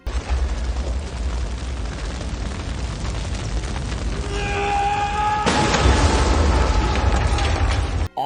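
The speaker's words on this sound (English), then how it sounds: "props for the senseless explosion behind him" An explosion in the animated Resident Evil: Vendetta film erupts behind a man, a steady rumbling roar with mechanical clatter and ringing tones, then a louder sustained blast that swells and holds before cutting off abruptly.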